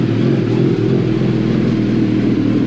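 A 2022 Suzuki Hayabusa motorcycle fitted with an M4 exhaust idles loud and close, its engine a steady, throbbing low rumble with a slight lumpy pulse and no revving spikes.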